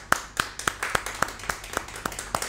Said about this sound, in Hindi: जोरदार तालियों के साथ हम उनका स्वागत करते हैं।